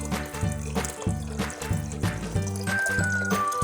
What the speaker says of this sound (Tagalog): atin na pong ilalagay yung ating sabaw ng manok